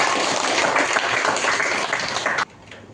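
Applause from a class or small audience, a dense steady patter of clapping that fills the room for a couple of seconds and then cuts off abruptly near the end, with no talking over it.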